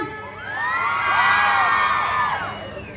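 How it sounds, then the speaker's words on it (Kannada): Women in the audience at an urban bank's silver jubilee celebration cheer and shout together, a loud high-pitched crowd roar with whoops that swells for a few seconds and then fades. "ಹೇಳಿ ಒಂಚೂರು ಸೌಂಡ್ ಮಾಡಿ ನೋಡೋಣ."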